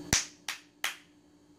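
A child's hands clapping three times in a quiet room, short sharp separate claps spaced roughly a third of a second apart, close and fairly soft, with no talking.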